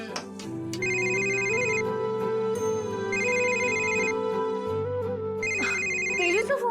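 A mobile phone rings for an incoming call, its melodic electronic ringtone looping loud and close over a low tonal background, with a brief rustle near the end.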